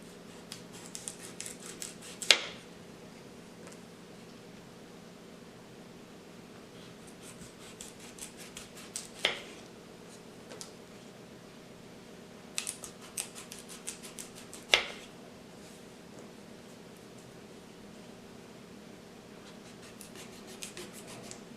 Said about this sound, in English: With my knife, I'm going to peel one of the sections.